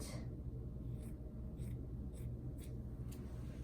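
Scissors cut applique fabric for an embroidered number shirt, with five or six soft snips spaced about half a second apart, faint against a steady low rumble.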